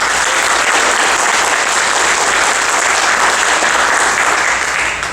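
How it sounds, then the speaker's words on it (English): A large audience at a Jackson County, Alabama State of the County Address applauds the county commissioners, a loud, dense and steady wash of clapping that holds for several seconds before easing off at the very end. "So if we could give them a round of applause"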